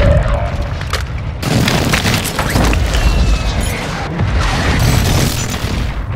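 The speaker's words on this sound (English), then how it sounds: "Mortar strike on the way" Mortar strike explosions in a military shooter video game, heavy booming blasts and rumbling debris filling the scene continuously, loud and close with scattered crackling impacts.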